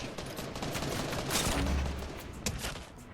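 Minigun fire in Fortnite, a dense rapid rattle of shots that runs for about three seconds at moderate level, with no talk.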